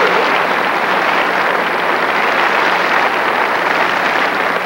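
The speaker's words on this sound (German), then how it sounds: "Julius, das ist dein Applaus hier." A television studio audience applauds in a show setting, a dense, even roar of clapping that holds steady and loud throughout with no talk over it.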